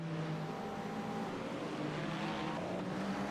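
A number 14 Ferrari race car at the 24 Hours of Daytona: a steady, moderately distant engine drone with shifting harmonic tones, heard continuously without speech.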